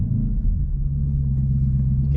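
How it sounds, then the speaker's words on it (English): A 2018 Jeep Grand Cherokee SRT's big V8 idles in a cold setting, a steady low rumble that holds even and continuous throughout, with no voices over it. "You can hear that big V8 purring."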